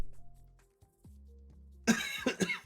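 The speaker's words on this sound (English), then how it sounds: "Sorry if I cough." A few sharp coughs and throat-clearing bursts close to the mic, clustered near the end after a quieter stretch of low hum.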